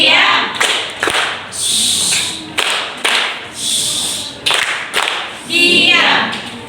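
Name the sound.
class doing tepuk diam clapping chant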